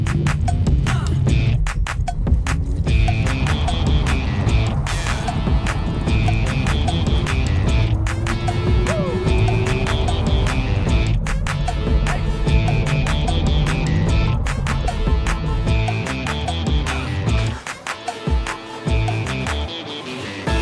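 A MEGAWHEELS A6L Eco electric scooter is ridden, giving a loud, continuous hum with a tonal motor whine over rumbling wind and road noise throughout, with no talking.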